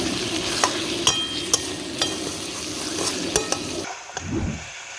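Soaked potatoes and mutton curry are stir-fried in a pan, with a steady sizzle under repeated scraping strokes of a spatula, and a louder stir toward the end.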